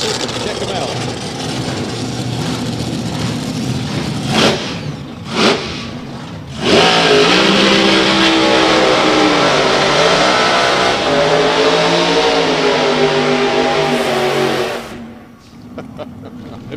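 Nostalgia dragsters revving at a drag race strip, loud roaring engines with sharp blips, then a long sustained high-revving run that fades out, with crowd noise and talk underneath.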